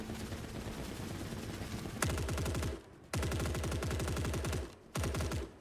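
Unsuppressed automatic gunfire from a rifle in the video game Forever Winter: a steady, loud rapid-fire stream in bursts separated by brief pauses, with no talking.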